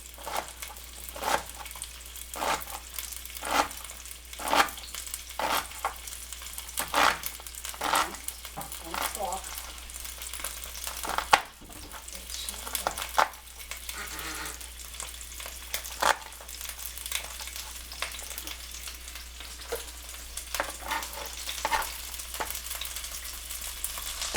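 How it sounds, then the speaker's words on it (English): Sausage sizzling and crackling in a frying pan, a steady close spitting with occasional stirring scrapes throughout. "So you can hear the sausage is doing well."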